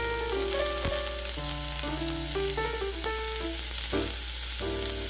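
Chopped ham fries in oil in a cast iron mini wok, giving a steady bright sizzle that runs without a break, with light stirring and a tune playing over it.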